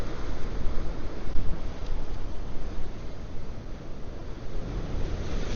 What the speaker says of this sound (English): There we go, here comes another big wave.